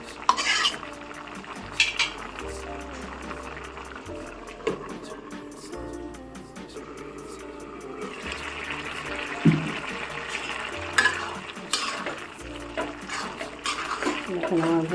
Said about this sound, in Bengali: এবার একটু নেড়েছে আবার একটু ঢাকনা দিয়ে ঢেকে সিদ্ধ করে নেব।